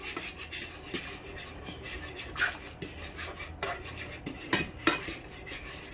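Spoon scraping and clinking against a pot while browning is stirred into Jamaican brown stew fish, a steady run of close scrapes and taps with a few sharper knocks, no talking.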